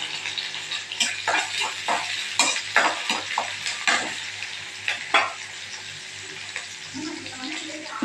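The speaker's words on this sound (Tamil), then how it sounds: "வெங்காயத்தை போட்டு கொஞ்சம் நேரம் வதங்கிட்டோம்" Onions sautéing in a pan, a soft steady sizzle broken by scraping stirring strokes and a few clinks, with brief speech in the background.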